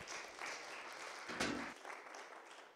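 A congregation in a church applauds, a fairly faint, continuous patter of many hands that swells briefly and then thins out.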